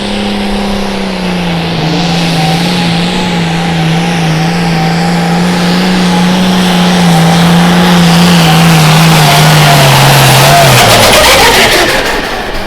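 A hot farm pulling tractor's engine roars loudly and steadily at a night tractor pull in Cuba City, Wisconsin, its pitch slowly dropping before it fades out, with faint commentary underneath.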